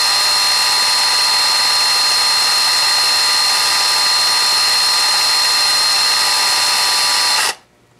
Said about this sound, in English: I'm just going to slowly activate my screwdriver and give it a little bit